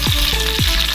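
Dried red chillies and curry leaves hit hot coconut oil with a loud, steady, close sizzle, with a few sharp bursts of crackling as pieces drop in.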